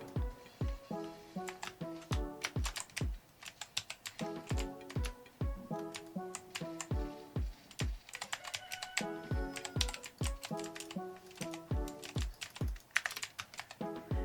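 Typing on an Aula S2022 budget mechanical keyboard produces a steady run of loud, crisp clacking keystrokes, close and continuous for about fourteen seconds with no voices over it.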